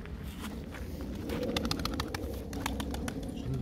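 Racing pigeons cooing close by, soft low murmuring calls with a few sharper chirps and flutters, no talking.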